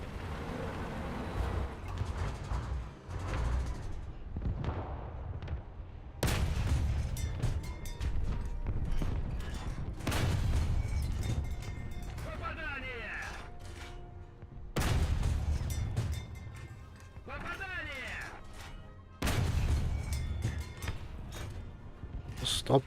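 Tank gunfire in the War Thunder video game, several heavy booming shots spaced a few seconds apart over rumbling engine noise and battle ambience, with someone talking over much of it.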